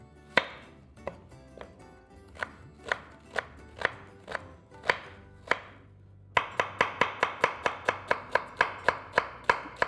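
A knife chops an onion finely on a cutting board in crisp, close taps, first spaced out and irregular, then in a faster, even run of cuts.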